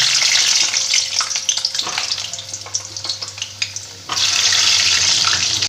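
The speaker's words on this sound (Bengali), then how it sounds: "আমি এবার আলুগুলোকে ভেজে নিচ্ছি" Potatoes fry in hot oil for a chicken curry, giving a loud, steady hiss and crackle with some scattered pops. A brief dip comes midway before the full sizzle resumes.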